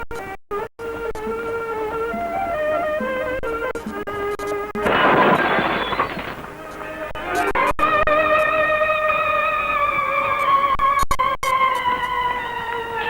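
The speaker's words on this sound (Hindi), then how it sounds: "इतना बड़ा शीशा तोड़ कर रख दिया।" A cricket ball smashes through a large glass pane, one loud crash with a shattering burst that lasts under two seconds, set between stretches of music.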